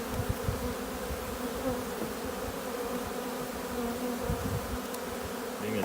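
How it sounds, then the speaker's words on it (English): Honey bees fly around a nucleus hive while a three-pound package is installed, making a continuous, dense buzzing hum throughout with no voices. "Of course, we have a lot of bees flying."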